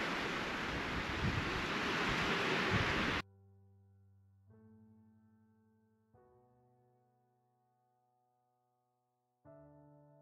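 Strong wind buffeting the microphone for a few seconds in a Northumberland valley near Wooler Common, a loud broadband rush, then it cuts away to soft, sparse music notes.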